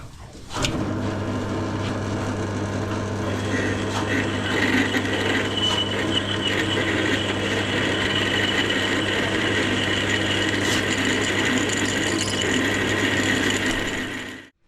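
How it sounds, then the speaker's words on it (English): A power drill whirs loudly and continuously for over ten seconds while drilling out a part on a Suzuki RM80 135cc engine project, then stops abruptly. "Drill this out."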